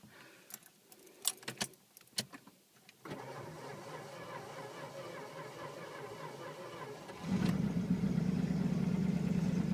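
Keys jangle in close, sharp bursts, then a 1981 Chrysler Imperial Frank Sinatra Edition's fuel-injected engine cranks steadily for several seconds before catching and settling into a louder, rumbling idle.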